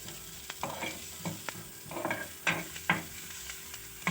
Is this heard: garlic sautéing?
yes